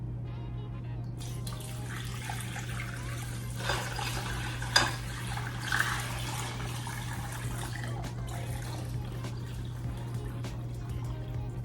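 Cleaning solution poured into a mixing bowl while preparing homebrew IPA equipment, a soft liquid splash and trickle that swells briefly in the middle over a steady low hum, fairly quiet and close.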